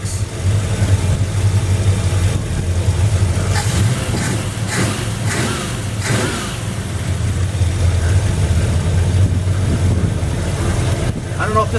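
A Plymouth Duster engine runs on a new Edelbrock AVS carburetor with a steady, loud idle rumble and a few blips of throttle, and a voice speaks briefly under it.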